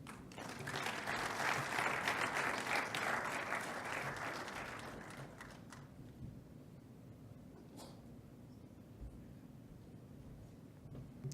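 Audience at a youth health forum applauds, loud rapid clapping that swells over the first few seconds, then fades away to quiet room tone with a stray clap or two.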